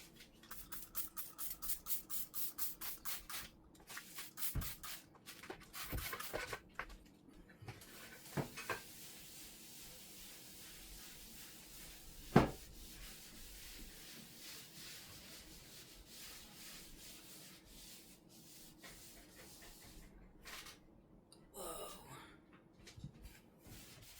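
Repeated bursts of degreaser spray at the start give way to steady rubbing and scrubbing on a greasy, dusty metal cooker hood, with a sharp clank partway through.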